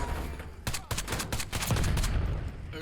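Rapid semi-automatic shots from the Merrick 556 rifle in Black Ops 6, a string of sharp, close cracks in quick succession with game rumble underneath and no one talking.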